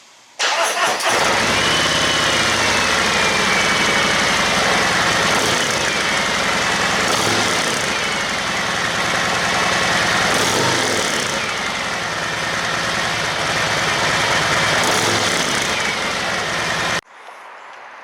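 A 2019 Harley-Davidson Road Glide Special with Mutazu 4.5-inch slip-on exhausts blips its throttle several times, each rev rising sharply over a rumbling idle before it shuts off.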